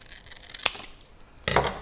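Scissors snip paper bat shapes in half at a craft lesson. Two crisp, close cutting snips sound about a second apart in a quiet room.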